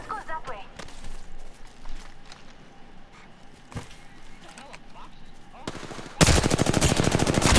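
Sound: gunfire in the video game Apex Legends

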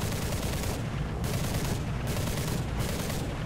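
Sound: aircraft gun firing in War Thunder video game

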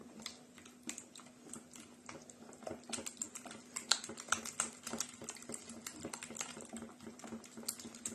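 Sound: mixing two eggs with salt

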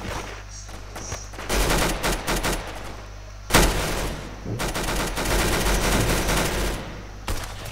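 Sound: machine gun fire in Roblox game Arsenal

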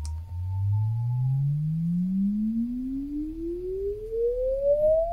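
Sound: sine sweep test tone through 1962 Romanian oval speaker

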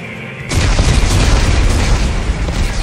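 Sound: explosives detonating in video game Dead Space 3

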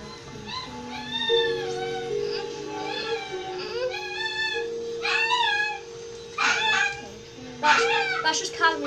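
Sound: dog

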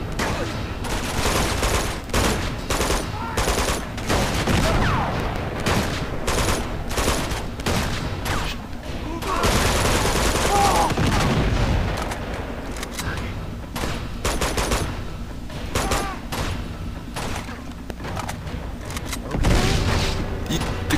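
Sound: grenade explosion and gunfire in Uncharted 2 video game

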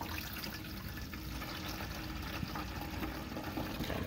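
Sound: water poured through a funnel into a pyramid model

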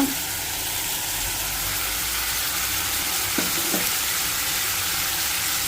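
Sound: goat brain frying in pan

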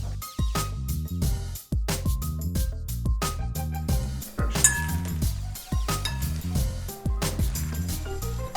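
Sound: mixing salad in a bowl

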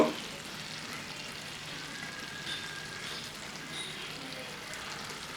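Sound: ghee added to Bengali fish-head curry, sizzling and stirred

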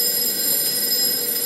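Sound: telephone ringing

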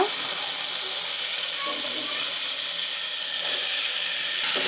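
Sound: capsicum frying in oil in a pan

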